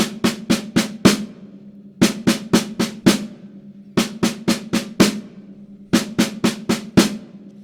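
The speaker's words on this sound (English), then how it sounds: "let's start really simply with a 5-stroke roll" Crisp snare drum hits come in repeated five-stroke rolls, four quick strokes followed by a louder accented one. The pattern repeats steadily several times.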